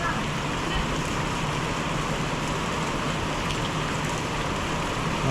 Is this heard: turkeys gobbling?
no